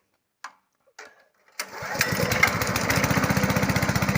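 A homemade house generator engine is pulled over with a couple of short cranks, then catches and settles into a steady, rapidly pulsing run, close and loud.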